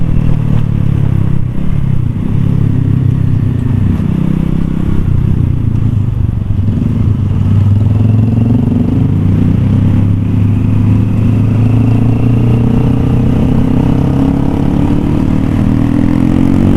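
A Honda Supra motorcycle with a bored-up engine running on RON 89 fuel roars at full throttle, a loud close engine drone that holds steady and rises in pitch toward the end.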